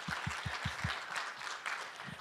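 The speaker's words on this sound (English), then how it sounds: "We'll do another clap before I introduce the..." An audience at a talk with South Australia's Chief Entrepreneur claps, starting with a few evenly spaced rhythmic claps that spread into a short, moderately quiet round of applause.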